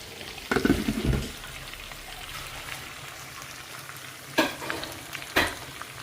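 Food sizzles steadily in a hot pan, with a few louder scraping stirs breaking through the constant crackle.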